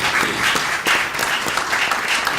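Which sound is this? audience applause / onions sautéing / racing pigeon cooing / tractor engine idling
audience applause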